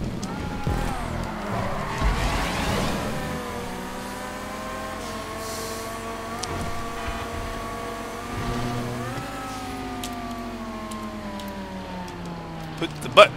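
A race car in GTA 5 drives at speed, its engine revving and shifting with rising and falling pitch, a few tire squeals and bumps, while a person talks over it.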